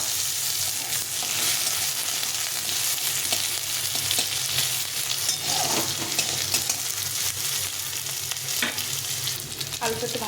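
Potatoes frying with ginger in a pan for a pumpkin-greens curry, a continuous close sizzle with frequent scraping stirs, no talking.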